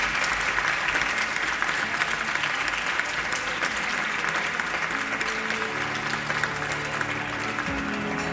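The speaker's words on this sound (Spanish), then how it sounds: "Otro fuerte aplauso" An audience in a regional parliament hall applauds at a youth debate league event, dense continuous clapping, loud and close, holding for the whole stretch with faint murmurs and shuffling underneath late on.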